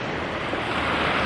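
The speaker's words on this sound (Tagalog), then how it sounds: "tunog ng alon, sarap pakinggan" Ocean waves wash onto a beach on a morning walk, a continuous loud, hissing surf roar with gusty wind noise buffeting the microphone.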